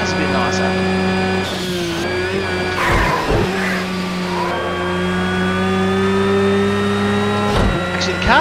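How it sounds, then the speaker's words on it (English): Race car engine in the Project Cars 2 racing game, heard from the bonnet camera: a steady, loud mid-pitched drone with shifting revs and gear changes, holding throughout with brief louder bursts. "the car sounds a little bit smoother from the bonnet cam as well"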